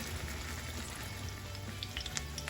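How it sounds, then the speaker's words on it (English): Sugar melting in hot oil in a pan while cooking plantains, a steady low crackling sizzle with faint scattered pops, continuous and close. "I'm just going to put the sugar inside the oil. So it can melt."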